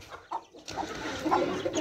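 A chicken that has just been let loose clucks in short, close bursts over a busy background.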